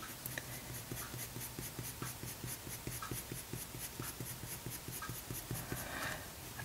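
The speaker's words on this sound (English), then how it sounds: "you can see it just keeps taking the pencil really nicely" Pencil scratching across Saunders Waterford 140lb hot-pressed watercolour paper in quick, steady back-and-forth strokes, a close, rhythmic dry rasp running throughout with no talking.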